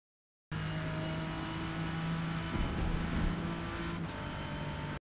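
Ford GT LM race car in the Forza racing game holding full throttle, a sustained engine drone with a steady pitch and a brief surge midway, moderately quiet and without voices.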